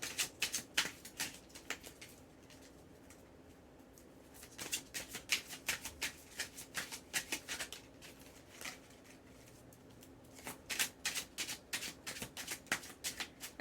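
Tarot cards are riffled and shuffled close by in quick bursts of soft flapping, with quieter gaps of handling between the shuffles.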